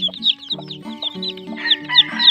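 A newly hatched chick with feathered feet peeps in quick, bright chirps, close and loud, over steady low clucking from nearby chickens, with no talking.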